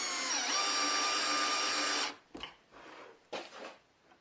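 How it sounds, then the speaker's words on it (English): A power drill fitted backwards with a screwdriver bit, used to insert dowel alignment pins, whines at high speed for about two seconds, its pitch dipping under load, then gives two brief, quieter bursts. "My insertion tool is just a screwdriver bit that I put in the drill backwards."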